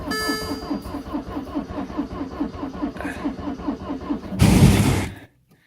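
A Citroen C5 diesel running on summer fuel cranks in freezing cold with a steady, rhythmic chugging from the starter, then a louder rushing burst before it cuts to silence without catching.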